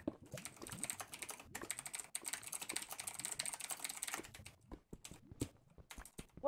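Rapid, close keyboard typing in bursts, clicky keystrokes tapping steadily with brief pauses, over a faint background hum.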